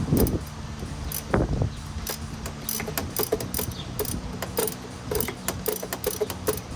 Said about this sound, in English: I'll just use a wrench since I have it. Take the lower clamp off.